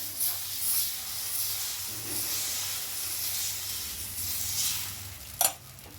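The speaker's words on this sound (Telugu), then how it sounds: "రుద్దేసినాక ఇప్పుడైతే దోశ పోసేస్తా" Dosa batter hisses on a hot griddle that was rubbed with onion and oiled, a steady close sizzle with no talking and one sharp click near the end.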